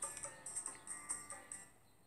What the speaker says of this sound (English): I don't know if you guys can hear all the birds chirping outside my window